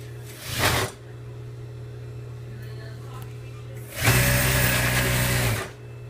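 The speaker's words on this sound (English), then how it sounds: "And so now I'm just going to stitch this together." Sewing machine stitching a pant seam at a half-inch allowance, with a short burst of stitching followed by a longer, louder run of about a second and a half, over a steady motor hum.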